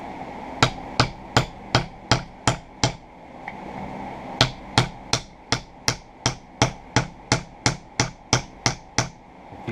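Sharp hammer blows driving a pin into wood on a homestead build, about twenty crisp evenly spaced strikes in two runs with a short pause between, close and loud with no talking.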